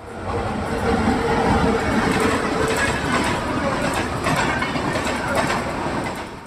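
Parasuram Express passenger train running on rails near Cheruvathur, Kasaragod, a steady loud rumble with rhythmic clickety-clack of wheels over rail joints, continuous and close throughout.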